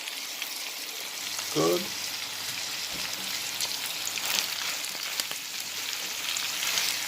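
Cabbage fries in a pot over medium-low heat, a constant close crackling sizzle with a short scrape of stirring; a voice speaks briefly over it.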